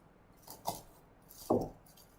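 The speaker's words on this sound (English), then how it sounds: "Now grab a few ice cubes" Ice cubes give two light, separate clinks about a second apart, quiet and close, with no talking.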